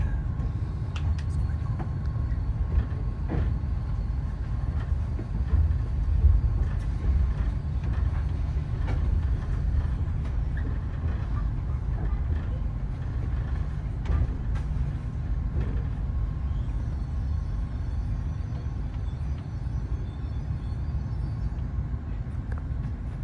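A passenger train pulls into a station in France with a low, continuous rumble of wheels and carriages. Faint clicks and rattles sit under a muffled onboard hum, steady throughout with no clear voices.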